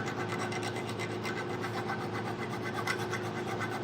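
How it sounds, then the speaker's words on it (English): A hand file rasps back and forth over damaged, hammer-battered bolt threads in a workshop, a steady close scraping with a rapid rhythmic stroke pattern and no talking. "Why file the threads?"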